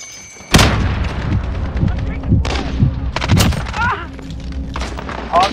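A grenade blast and gunfire in the video game Call of Duty Modern Warfare: a sudden loud boom, then dense bursts of rapid shots and thuds, with further cracks and explosions rolling on through the battle.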